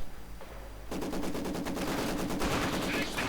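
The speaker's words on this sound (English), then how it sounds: "Maxim quickly suppressing, leaving them Grenadiers much easier targets" A Maxim machine gun fires in a strategy video game, heard as a sustained rapid burst of shots that starts after a moment and continues loudly to the end, with other battle noise behind.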